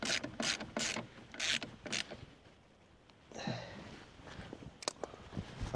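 Hose clamps being tightened on a Fiat Ducato cab during a DIY service, giving several short close mechanical ratcheting bursts with a brief quiet gap and then softer clicks and fiddling.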